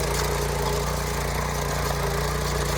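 Motorcycle-engine power weeder with a cultivator attached, working a field like a small tractor, gives a steady loud chugging engine drone with a rhythmic low thump, running continuously and close with no talk.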